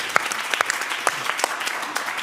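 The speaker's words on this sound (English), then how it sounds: "Give it up for Anthony in the booth up there" Studio audience at a live comedy game show applauds steadily, dense clapping with sharper individual claps standing out, close and continuous throughout.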